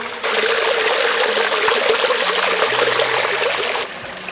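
Water flowing at a spring in the old village of Walaja, a loud, close, steady rush and trickle lasting several seconds before it cuts down, with no voices.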